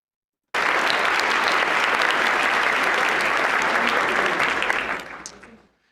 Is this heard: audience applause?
yes